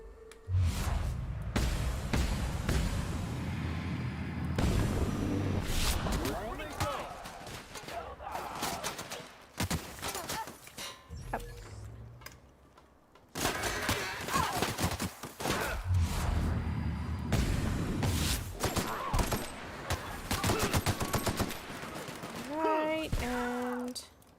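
Cannons fire in The Outer Worlds during a fight, with repeated heavy booming shots and sharp impacts spread across a long, dense stretch of combat noise, broken by short quieter pauses. A voice talks over parts of it.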